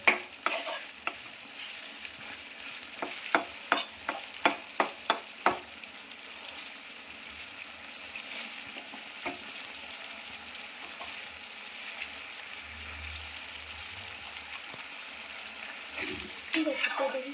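Jackfruit cooked with mutton fat and stir-fried in a pan, a rapid series of close spatula scrapes and clacks over a continuous sizzle, settling into steadier frying before a final flurry of stirring.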